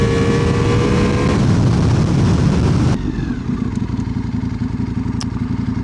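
A Ducati Multistrada V4 RS pulling hard under acceleration, a loud dense engine roar with rising tones that cuts abruptly into a lower, rougher drone with wind rush, all close and continuous.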